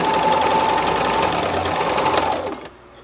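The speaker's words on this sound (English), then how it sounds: "all I gotta do for my machine is sew right to that, use the edge of the presser foot to do that" Sewing machine stitching placemat fabric for a silverware sleeve, a fast, even motor whir with rapid needle rhythm running close and alone for a few seconds before it stops abruptly.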